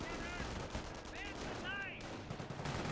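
Bursts of machine-gun fire from a rear gun on a half-track in the strategy game Company of Heroes, crackling in short rapid runs amid steady battle noise.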